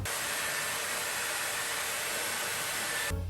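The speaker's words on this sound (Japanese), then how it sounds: "電源スイッチをドライにして髪を乾かします。" A Panasonic Nanocare EH-NA0G hair dryer on its dry setting blows a steady, even airy roar at close range while drying short hair, then cuts off abruptly near the end.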